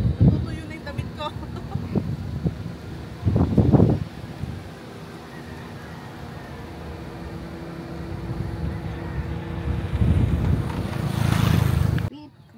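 Gusty wind buffets the microphone in low rumbling bursts, rising strongly near the end, with occasional voices and background noise underneath.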